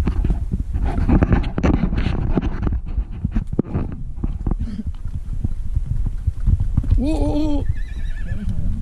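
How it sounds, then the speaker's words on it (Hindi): A horse being ridden on a mountain trail in Kashmir, hooves clip-clopping steadily with a clear, close whinny partway through, while people talk throughout. "घोड़े पे बैठ चुके हैं, अब ऊपर जाने की तैयारी."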